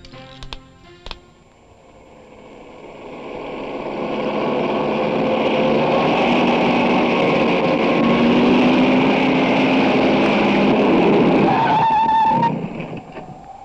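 A car braking to a stop, engine and tyre noise swelling into a long loud rushing skid that holds for several seconds before cutting off abruptly, with no one speaking.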